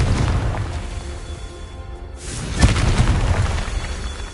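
A Confringo spell blast in Hogwarts Legacy, a loud booming explosion that swells and then rumbles on for several seconds, with a sharp peak partway through and no voices.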